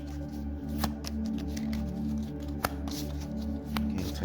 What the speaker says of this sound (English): Shuffle it on camera.